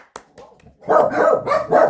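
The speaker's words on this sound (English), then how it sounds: "This is usually common in my Q&As, dogs barking all the time." Several dogs barking indoors close by, a few quick yips at first then a run of loud, repeated barks overlapping one another.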